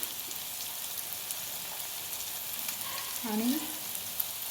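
Red chilli powder, garam masala and turmeric frying in a pan for kalwa (oyster) masala, a soft steady sizzle with a brief stirring scrape near the end and a single spoken word.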